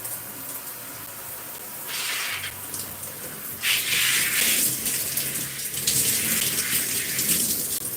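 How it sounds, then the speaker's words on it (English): A kitchen or bathroom tap runs as a hand is rinsed, the water stream swelling and growing louder as the hand moves under it, close and continuous. "Let me rinse my hand."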